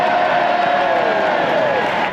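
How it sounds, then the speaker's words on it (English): A crowd at a farmers' rally cheers and whoops, a loud sustained roar of voices lasting a couple of seconds. "So please, give Kemi and Victoria Atkins the loudest cheer you've got."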